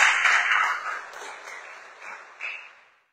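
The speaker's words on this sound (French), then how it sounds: "Acclamons très fort le Seigneur." Church congregation applauding during a service, a dense wash of clapping hands that swells, dips and tapers off to silence over about three seconds.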